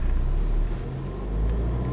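A Ford Fiesta ST hatchback engine drones steadily while driving, a loud low rumble from inside the car with slight swells in revs and no talking.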